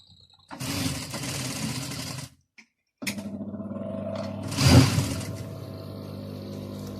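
A sewing machine stitches trim onto a Moroccan caftan in two steady runs that are split by a short pause. The second run ends with a louder clattering surge.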